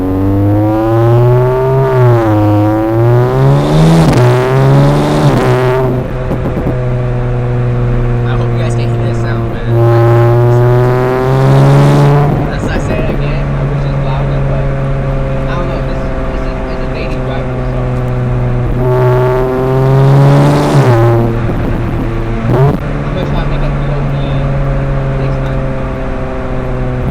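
An Audi S5 revving hard in first gear, engine note climbing in repeated pulls with pauses between, loud and close, with someone talking over parts of it.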